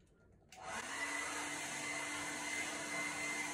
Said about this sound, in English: Put the hair dryer upside down and put your wet clothes from 20 to 30 centimeters distance.